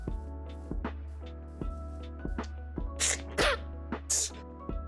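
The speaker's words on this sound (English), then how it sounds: "Oh my god, why am I sneezing so much?" Several sharp sneezes from one person close to the microphone, in quick bursts near the end, over a steady electrical hum and a regular low tapping pulse during a Minecraft gameplay session.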